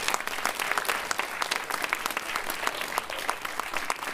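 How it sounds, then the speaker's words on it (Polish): A dense round of applause fills a sports gala hall, with an audience clapping loudly and steadily throughout, a few sharper claps standing out from the crowd. "Wielkie brawa jeszcze raz, proszę państwa."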